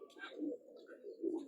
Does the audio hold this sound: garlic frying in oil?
no